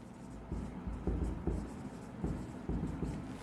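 Chalk or marker writing on a board during an accounting lesson, soft rhythmic taps and short strokes repeating across the moment, close and moderately loud over a low room hum.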